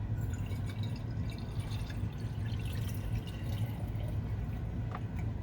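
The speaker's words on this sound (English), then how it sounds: "Let's dump this water out of here." Rinse water from tintype plate processing is tipped out, then splashes and drips in a steady, close patter that runs continuously.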